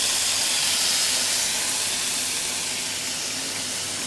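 Steady hiss and sizzle from scallops and chanterelle mushrooms cooking in a pan after a splash of broth is added, loud and continuous throughout, with no talking.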